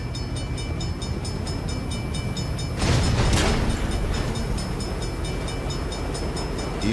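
A steady, loud rumble of a train passing close by in the video game Saints Row (2022), with a swell of noise midway through and a faint high whine above.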